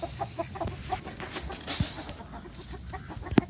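Chickens clucking on a farm among ducks and turkeys, a steady patter of soft nearby clucks with one sharper call near the end.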